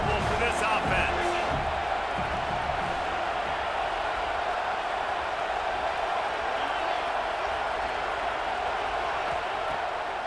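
Steady stadium crowd roar at a football game, loud and continuous throughout, with a few brief sharp thuds near the start.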